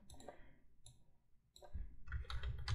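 Computer mouse clicks while working in Affinity Publisher: a few crisp, quiet clicks spaced apart, then a denser cluster of clicking, close and faint.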